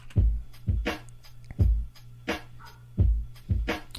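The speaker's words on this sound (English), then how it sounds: "I've got this drum loop here" A drum loop with punchy kick drums and snappy snare hits in a steady groove, repeating with no voices.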